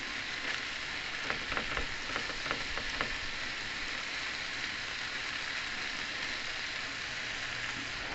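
Half a head of cabbage cooks over low heat in an 18-inch skillet, a soft, even sizzle like light rain with a few brief crackles early on.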